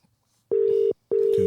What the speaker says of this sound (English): Let's phone Andy.